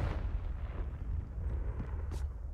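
Confringo spell blast in Hogwarts Legacy, a low rumbling boom with crackling debris that rolls on steadily for a couple of seconds, with a brief bright hiss near the end.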